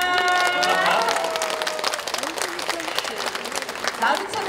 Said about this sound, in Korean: 멋진 연수구청에게도 사실 좀 박수 좀 드렸으면 좋겠습니다